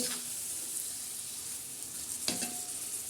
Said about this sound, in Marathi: आता आपण टाकणार आहे डाळ तर हे डाळ बघा अशी छान अशी मस्त हलवून घ्यायची